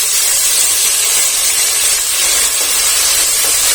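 Tomatoes dropped into hot coconut oil with chillies and curry leaves for a Kerala-style rasam give a loud, steady, close sizzle that holds without pause.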